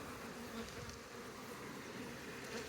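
Honeybees buzz continuously close by, a low steady droning hum with no talking.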